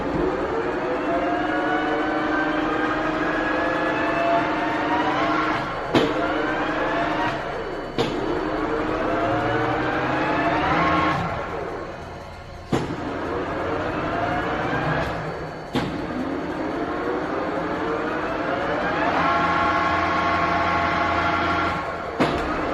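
A Schiess 1400 mm swing vertical lathe running free, a loud droning machine whine that repeatedly rises and falls in pitch, broken by sharp clunks, steady and close with no talk.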